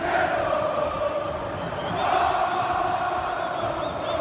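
Cruzeiro football fans at the Maracanã stadium, a dense roaring crowd chanting in unison as a steady, swelling wall of voices heard from a distance.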